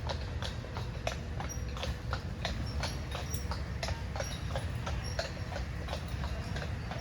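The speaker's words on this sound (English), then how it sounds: "these horse-drawn carriages are just going by" Horse-drawn carriages pass by a resort hot tub at night, the hooves clip-clopping in a steady, even rhythm over a constant rushing wash of bubbling water, moderately distant.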